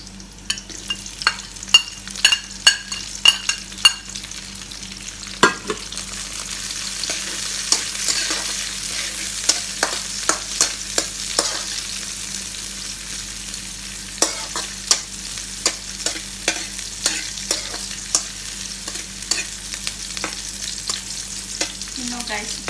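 Onions and garlic sizzling in a hundred-year-old kawali while pasta sardines are made, a soft continuous sizzle broken by repeated sharp clacks of a utensil against the pan, with no talking.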